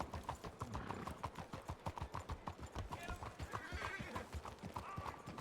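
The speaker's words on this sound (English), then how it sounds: "there's someone's horse" A horse in the Western video game Red Dead RP clip-clops along at a steady walking rhythm, hooves near and distinct, with a brief whinny and faint talk in the background.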